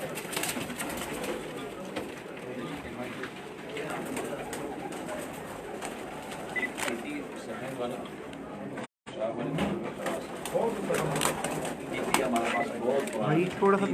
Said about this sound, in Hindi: माशाल्लाह शौक करवा रहे हैं उस्ताद हाफिज़ फुरकान साहब अपने ब्रीडर कबूतरों का।